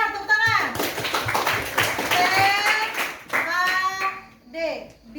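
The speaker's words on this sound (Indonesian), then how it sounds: "Benar, tepuk tangan." Students clap together in a classroom, several short bursts of brisk group clapping mixed with children's voices and a teacher talking.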